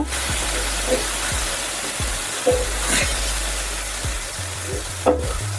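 Onion paste, ground from two large onions, hits hot oil in a pan while cooking biryani, giving a steady close sizzle and hiss, with occasional scraping stirs and light knocks of a utensil against the pan.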